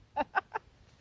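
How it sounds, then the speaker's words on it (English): A rooster on a farm gives three quick, evenly spaced clucks close by, then falls quiet against a faint background. "Say hi, Rooster."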